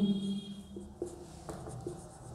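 Writing on a board during a coordinate geometry lesson makes faint scratchy strokes and light taps, several short marks spread irregularly, quiet and close, with a steady hum underneath.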